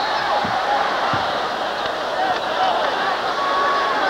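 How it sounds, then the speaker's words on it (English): A restless crowd in a basketball arena during an NBA Bulls–Pistons game, a steady loud wash of murmuring and shouting with a few faint thuds underneath. "The crowd's getting restless now."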